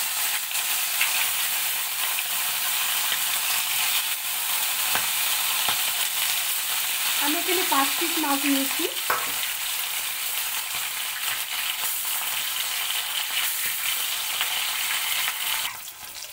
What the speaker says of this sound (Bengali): তাই মাছ ভেজে নিচ্ছি